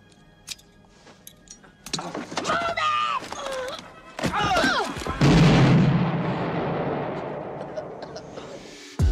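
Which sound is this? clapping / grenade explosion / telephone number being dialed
grenade explosion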